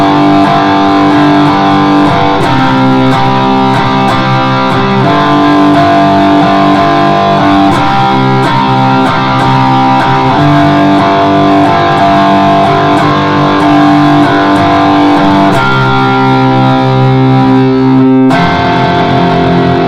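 Electric guitar strummed in an open-chord rhythm pattern, with the thumb muting one string. A steady, driving, distorted rhythm plays continuously and loud, with chord changes throughout and a brief break near the end.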